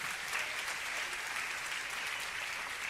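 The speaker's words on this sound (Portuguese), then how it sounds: "aplauda o nome de Jesus" Church congregation applauding during a sermon, a thick, even wash of clapping that holds steady at full strength from start to finish, filling the room without any voices on top.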